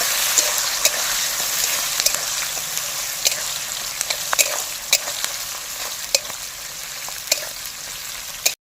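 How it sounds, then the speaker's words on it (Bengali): Sliced onions sizzle and fry in a pan for village-style fried rice, a steady hiss with scattered sharp crackles and pops, close and fairly loud, with no voices. "পেঁয়াজটা একটু ভেজে নিয়েছি"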